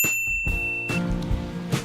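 A notification bell sound effect: a bright, clear ding rings at the start and sustains briefly before fading, followed by a couple of softer tonal clangs.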